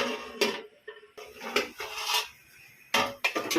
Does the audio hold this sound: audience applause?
no